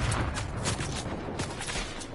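A pulse rifle fires rapid, chattering bursts in a no-build squads video-game match, the shots close and sharp with little else beneath them.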